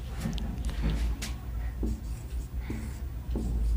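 Chalk-like scratching strokes of writing on a board during a maths lesson, a steady run of short scrapes and taps against a constant low room hum, with no voice over it.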